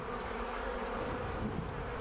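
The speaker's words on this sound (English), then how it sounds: "I can hear bees again, though!" Bees buzz in the ARK survival video game, a steady droning hum that holds at an even level throughout, with no speech over it.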